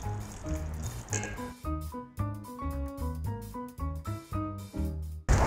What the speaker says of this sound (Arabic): هنحط بقى شوية مية كده تدريجيا ونقلب.